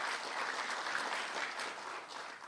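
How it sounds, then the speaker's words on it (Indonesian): A church congregation claps together in a brief burst of steady, moderately distant applause that fades slightly toward the end. "Berikan tepuk tangan buat Tuhan Yesus ya."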